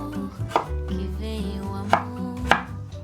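Knife chopping potatoes and carrots into squares on a cutting board, three sharp close taps spaced unevenly over three seconds above a low background hum, no talking.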